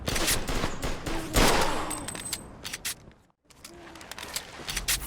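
Gunfire in the Mafia II video game: loud bursts of automatic fire and repeated shots that break off into a brief silence before the firing resumes.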